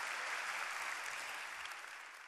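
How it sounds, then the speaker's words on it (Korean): A lecture audience at a Seoul National University public natural-science talk gives the professor a round of applause, a dense, steady wash of clapping that holds loud throughout and tapers slightly at the end. "멋진 공연해주신 교수님께 다시 한번 큰 박수 부탁드립니다"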